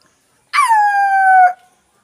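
A performer's voice mimics a dog's howl in one drawn-out, falling, whining tone lasting about a second, clear and loud against silence.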